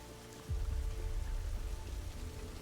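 Steady rain patters across a surface, a soft continuous wash with a low rumble that swells about half a second in and holds evenly throughout.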